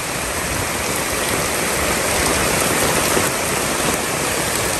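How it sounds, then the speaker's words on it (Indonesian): Heavy rain pours down in a dense, constant hiss and roar, loud and unbroken throughout, with no voices. "Alhamdulillah, hujan deras."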